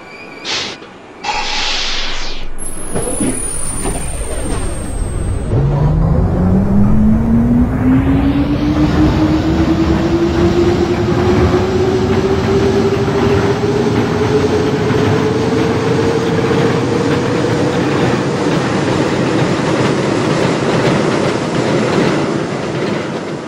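An IRT Redbird subway train in the OpenBVE simulator, running as a northbound 7 on the Flushing line, starts with a brief high tone. A loud motor whine then climbs steadily in pitch as it accelerates over a continuous rolling rumble and track clatter.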